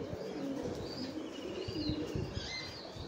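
Satin pigeons on a pigeon farm coo softly in repeated low calls, with a few faint chirps and wing flutters, all fairly quiet and close with no talk.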